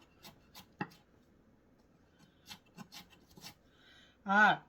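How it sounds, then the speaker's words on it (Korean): A kitchen knife julienning cucumber and vegetables for Korean cucumber kimchi gives a few scattered, crisp cutting taps against a board, fairly close but quiet, with a brief voice near the end. "얘도 이렇게 해서 옆으로 눕히고서 채쳐줄게요"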